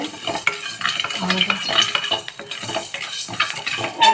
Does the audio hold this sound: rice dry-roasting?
yes